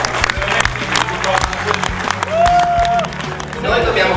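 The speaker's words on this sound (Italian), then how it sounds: "vorrei fare un applauso io davvero" An audience applauds at an off-road 4x4 club event in Italy, a steady wash of clapping mixed with crowd noise, someone speaking over it and a brief whistling tone midway.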